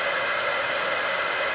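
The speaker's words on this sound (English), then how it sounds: "We have to give my heat gun a second to warm up." A heat gun blows steadily as it warms up, a continuous loud airy hiss with no change or pauses, heard up close.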